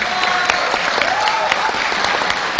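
Dense, steady applause from a large audience at an Indonesian talk about Pancasila, loud and continuous throughout with no voices heard.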